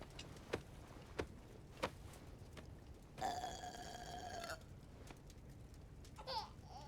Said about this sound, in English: All right, time for a burping.